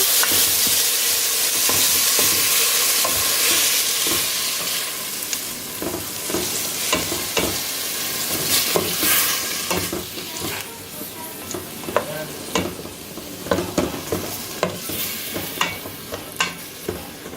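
Homemade sofrito for Puerto Rican-style sopa de salchichón sizzling loudly in a cooking pot while a spoon stirs through it, with frying hiss strong at first, then quieter and broken by scraping clicks.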